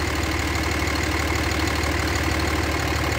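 A Cummins 5.9L diesel truck engine idles with the oil cap off, a steady, continuous rumble with a fine knocking texture, close and even throughout with no talking.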